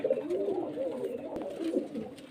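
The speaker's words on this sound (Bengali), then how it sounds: "প্রচুর পায়রা আছে ঘরে" Pigeons in a crowded home loft, including desi giribaz birds, coo softly and continuously in low, rolling phrases, close by with no talk over them.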